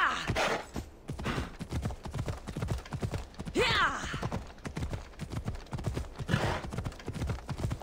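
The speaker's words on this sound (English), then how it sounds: "Good horsey. A little steep for you." Horse hooves clip-clop on the ground in the video game Assassin's Creed Odyssey, a steady rhythmic run of close hoofbeats with a few brief whinnies, while someone talks over it.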